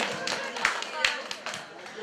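Wedding guests clap at a Ukrainian family-joining ceremony, with a few light, separate claps mixed into a muffled background hum of the hall, rather faint and brief.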